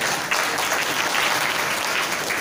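Enthusiastic audience applause at a community education event in India, a dense, steady wash of clapping from a sizable crowd, loud and close throughout with no talking over it.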